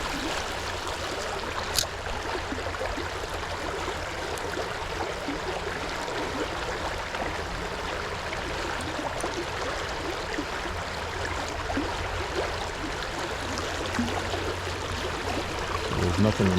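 Fast-moving water in a low summertime brook runs as a steady, continuous broadband rush, close and even in level throughout with no talk over it.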